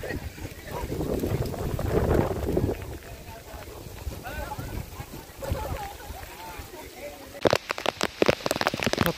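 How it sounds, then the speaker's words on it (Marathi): Heavy rain on Korigad fort near Lonavala, falling beside a lake as a steady hiss with wind gusts and a sharper burst of drops near the end, under someone talking. "कोरीगडावरती जोरदार पावसाला सुरुवात झालेली आहे."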